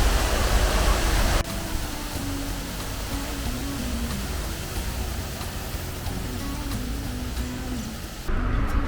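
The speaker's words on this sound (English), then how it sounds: "it's possible to walk behind the waterfall" Water from a fountain waterfall in Cusco splashes steadily as a broad, continuous rushing wash, near and fairly loud, with a low tonal hum underneath and a brief louder burst at the start.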